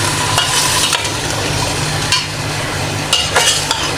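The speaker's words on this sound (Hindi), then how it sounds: "अदरक का पेस्ट डालेंगे। छींटे उड़ गए इसकी।" Ginger-garlic paste sizzles loudly in hot oil in a pan while being stirred for beef haleem, a continuous close hiss broken by a few sharp spatters and scraping strokes, with no voices.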